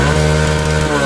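Bajaj V15 motorcycle engine revved with the throttle, a loud, close, continuous buzzing engine tone with strong steady harmonics throughout the brief burst.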